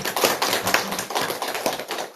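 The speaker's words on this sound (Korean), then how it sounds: "우리 영주자매가 힘내라고 박수 한번 쳐주시죠." A church congregation clapping hands together, a brisk run of close, sharp claps in steady rhythm lasting about two seconds with no talking.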